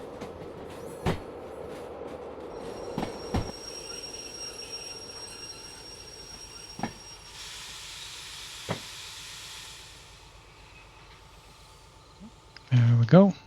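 Wagons in the Derail Valley train game roll along rails while being dropped in a sawmill siding, with a steady low rumble, scattered sharp clanks and thumps, and a hissing release late on; someone talks over parts of it.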